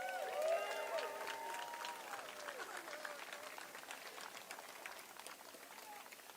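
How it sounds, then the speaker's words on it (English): A crowd applauds lifeguards at the unveiling of a new Pride lifeguard tower, a dense patter of clapping with mixed voices and cheers, strongest at the start and slowly thinning, heard from a moderate distance. "we'll give them a big hand of applause"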